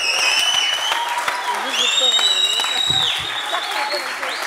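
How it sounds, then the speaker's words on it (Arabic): A studio audience at a Tunisian family sitcom applauds in a steady, dense wash of clapping that lasts throughout, with high whistle-like tones and brief voices mixed in. "يستحق تصفيق اقوى برشا"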